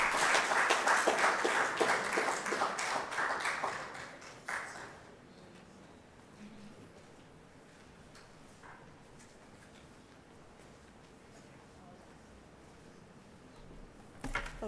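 Audience applause for presenters at a health systems innovation conference, a dense wash of clapping that fills the first four to five seconds, then fades out, leaving a quiet room with faint scattered sounds.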